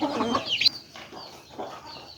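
Chickens in a rural yard give a few short clucks and squawks, one sharper cry near the start, then softer scattered clucking at moderate distance.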